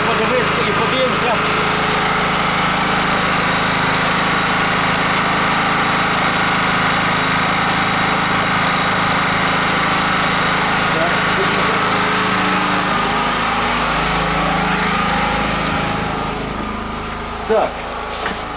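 A GENERGY GORBEA NEW 2.8 kW petrol generator with SVR stabilisation drones loudly and evenly up close, its engine note shifting slightly near the end and then dropping away in the last seconds.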